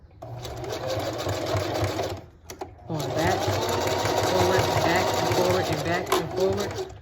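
Sewing machine stitching single hair wefts onto a wig cap, running in two long steady bursts with a short pause between, the needle chattering in a fast even rhythm close up. Someone speaks during the stitching.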